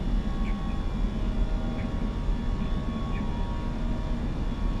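Airbus A320 jet engines in a flight simulator climb out after takeoff in a steady, moderately loud broadband cabin roar with a low rumble, continuous and unchanging, with no talk.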